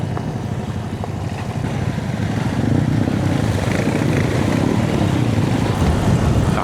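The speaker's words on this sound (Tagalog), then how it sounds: "Lakas ng hangin dito ah." Strong wind at a remote campsite in Pangasinan, Philippines roars steadily across the microphone, a dense low rumble that swells slightly louder partway through and never lets up.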